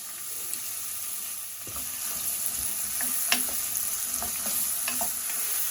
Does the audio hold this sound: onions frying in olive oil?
yes